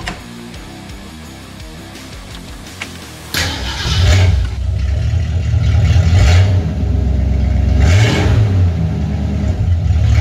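A 1966 Ford Mustang engine, freshly filled with 20W50 oil, stays quiet for a few seconds before it cranks and fires into a loud, close, rough idle with occasional revs.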